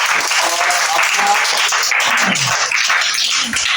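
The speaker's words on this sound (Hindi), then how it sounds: "तालियां होनी चाहिए" A classroom of students applauds for a classmate, a steady, close burst of clapping with faint voices underneath.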